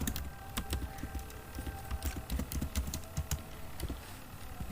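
Fingers typing a heading into MS Word on a computer keyboard, a quick uneven run of light key clicks and taps, close and quiet, continuing steadily without any voice.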